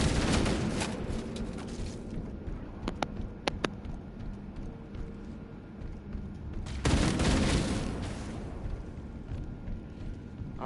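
Gunfire in the Halo Campaign Evolved game on PS5: a dense, continuous stretch of shooting and explosive combat noise with a few sharp isolated cracks, swelling louder again near the end.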